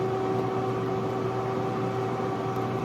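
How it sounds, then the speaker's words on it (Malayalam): An air fryer set to 350°F cooking plantain chips gives off a steady, even fan whir with a constant low hum, running without a break and with no voices. "350 ഡിഗ്രി ഫാരൻഹീറ്റിൽ 7 മിനിറ്റ്സ് നമുക്ക് എയർ ഫ്രൈ ചെയ്യാം."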